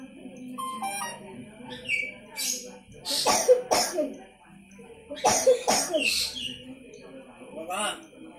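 A talking bird imitates a cough with a few rough, voice-like bursts, mixed with whistles and chirps while a person speaks nearby.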